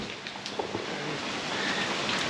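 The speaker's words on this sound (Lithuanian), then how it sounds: "Nes lietus vis dar lyja." Steady rain pours down in a jungle setting, a dense, continuous hiss with scattered heavier drops pattering close by, fairly loud and with no voices over it.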